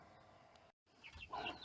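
Chickens, hens and a rooster, including a white hen, cluck and call softly in a farmyard, a low continuous murmur of fowl sounds with a brief gap, then livelier, higher calls near the end.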